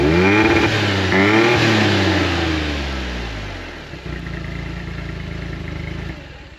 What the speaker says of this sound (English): it's holding it idling and it's holding it when I rev it up the same